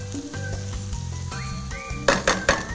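Garlic, onion, carrot and celery frying in a pan for a Bolognese sauce: a steady close sizzle with a few sharp clinks of a utensil against the pan near the end.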